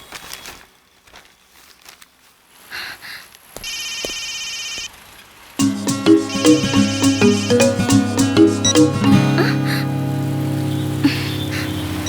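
A phone rings with a bright electronic ringtone melody, starting after some quiet rustling and playing on loudly and steadily for several seconds.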